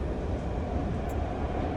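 Train interior in a video game: a steady, loud rumbling roll of carriage and wheels, continuous and close, with no voices.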